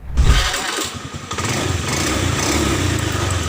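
A Honda Beat scooter engine running steadily at close range, a low buzzing idle with a brief rev at the start, no voices.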